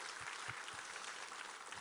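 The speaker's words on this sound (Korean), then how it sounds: "우리 하나님께 감사와 영광의 박수를 올려드리겠습니다." Congregation applause during a Sunday church service, a faint, steady patter of many hands clapping at a distance, brief and without talk.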